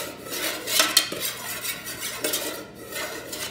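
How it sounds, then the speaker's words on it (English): A spoon stirs a warming muscle rub mixture made with essential oils in a bowl, giving soft, close scraping and clinking sounds with a few sharper taps against the container. "So just going to give this a stir."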